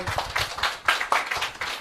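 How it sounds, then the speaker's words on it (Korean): Scattered audience members at a televised business event clap unevenly, a few distinct bursts of hands close by rather than a full ovation, quiet overall. "박수 주세요"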